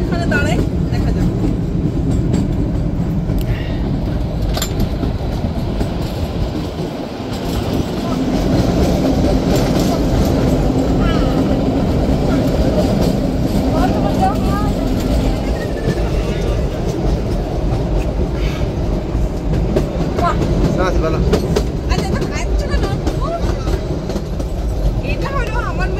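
Kalka–Shimla toy train, a UNESCO heritage mountain railway, rumbles and rattles steadily along the track for the whole stretch, with clickety-clack wheel noise close by and voices murmuring underneath.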